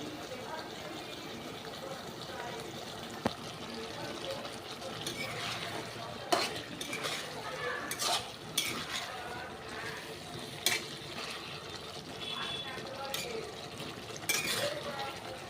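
Spices sautéing in a pan with oil for a thin pomfret curry with potato, taro and eggplant, a steady low frying hiss with scattered scraping stirs and clinks throughout.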